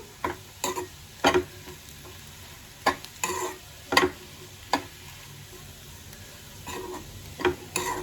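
Potato pieces frying in a pan are stirred, giving a series of distinct scraping knocks at an uneven pace over a quiet, steady sizzle, no talking.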